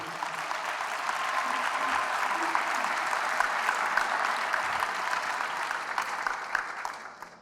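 A church congregation bursts into sustained, dense applause after a scripture reading, a steady wash of many hands clapping at even loudness that tapers off near the end.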